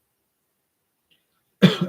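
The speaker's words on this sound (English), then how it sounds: "I can't stop coughing." A single short cough, or a cough with a throat-clear, from a man during a brandy tasting, near and abrupt after near silence.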